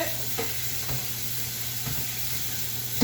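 Potatoes fry in garlic butter in a pan, giving a steady, close sizzle with soft crackles and a faint hiss throughout, with no voices.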